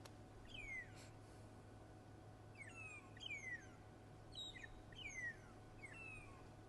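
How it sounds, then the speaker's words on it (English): Several birds give repeated sharp, descending alarm calls at irregular intervals on an evening safari drive, fairly distant over a quiet low hum. "A few birds alarming."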